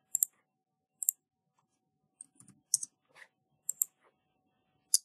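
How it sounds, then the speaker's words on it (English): Crisp, sharp computer mouse clicks while a flow action is saved, several separate close clicks spread irregularly over a few seconds in a quiet room with no talking. "All right, so then we go ahead and click save."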